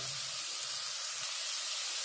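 Water splashed into a hot frying pan of vegetables and rice hisses and sizzles loudly, a steady broad steam noise lasting the whole moment with no talking.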